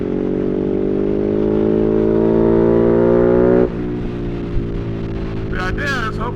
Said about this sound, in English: hear that exhaust really good